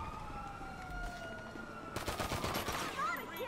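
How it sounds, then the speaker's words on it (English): Gunfire from police in the video game GTA 5, a dense burst of rapid shots that starts suddenly midway and keeps rattling over a siren-like whine and game background noise. "Oh, cops shooting us."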